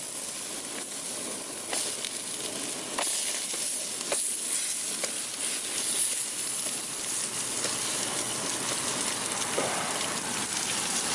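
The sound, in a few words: jerk chicken sizzling on a grill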